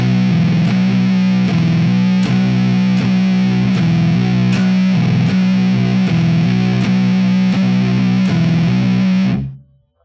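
Heavily distorted electric guitar plays bar 3 of a stoner rock riff, with thick, loud, chugging repeated notes in a steady rhythm that cut off abruptly at the end.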